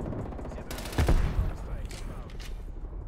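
MP5 submachine gun in Call of Duty: Black Ops Cold War fires a short, loud burst of rapid shots, followed by scattered gunfire at a distance, with a voice speaking over the action.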